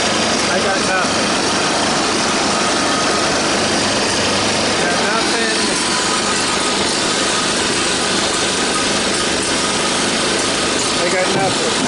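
A 3200 watt portable generator, once rain-submerged and now overfilled with oil, runs steadily and loudly close by, a buzzing high-revving engine drone throughout.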